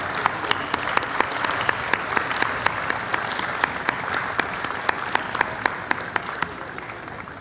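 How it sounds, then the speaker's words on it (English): A large festival crowd applauds an award winner, sustained broadband clapping with sharp individual claps popping out above the steady roar throughout. "Let's give a big round of applause for Miss Jacqueline Polk-Lyons"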